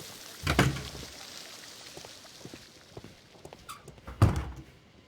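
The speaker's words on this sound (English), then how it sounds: "These doors make a lot of noise." Two loud wooden thuds from a creaky door swinging open and shut in a Sherlock Holmes game, a second apart at the start and end, with faint creaks between.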